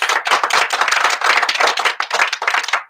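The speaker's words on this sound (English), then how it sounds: "we're going to ask our studio audience to give him a round of applause" A studio audience on a morning talk program claps for a county sheriff's captain, a dense, steady round of applause, close and fairly loud, with no voices over it.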